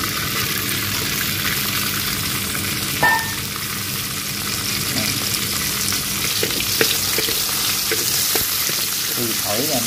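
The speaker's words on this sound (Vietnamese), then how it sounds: "Mình bắt cái chảo lên, mình cho dầu ăn vô. Cho tỏi vô cái mình xào" Garlic and razor clams stir-fry in hot cooking oil in a pan, giving a steady close sizzle with occasional clinks and scraping stirs, and no talk.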